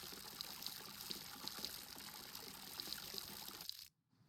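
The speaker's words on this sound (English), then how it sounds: "So now let's give all this water to this cherry." Water pouring steadily onto a cherry plant in the survival game SCUM, a continuous trickling splash that stops abruptly near the end, with no voices.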